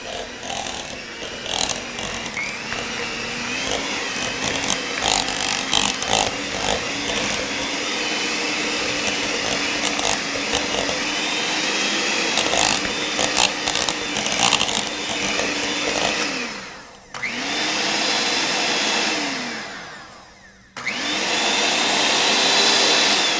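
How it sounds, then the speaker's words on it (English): Electric mixer beating cream cheese for a cheesecake, a steady whirring drone with shifting pitch that runs loud and continuous, dipping briefly twice near the end as the motor slows and restarts. "you want to mix the cream cheese first"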